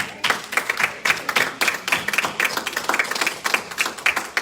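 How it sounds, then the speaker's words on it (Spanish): A church congregation breaks into steady applause, a dense run of many hands clapping together at moderate volume with no voices over it. "Vamos a darle un aplauso al Señor."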